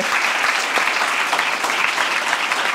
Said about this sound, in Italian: Facciamo un applauso ad Alberto.